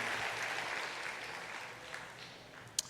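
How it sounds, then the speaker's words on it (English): A church congregation claps hands together in praise, a steady dense patter of many hands filling the room at moderate level, fading slightly before a single sharper clap near the end. "Put your hands together and give the Lord a hand clap."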